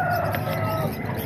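Gilmore Hatch gamefowl rooster giving a close, loud call, a short burst of crowing with clucky tones, with faint background noise.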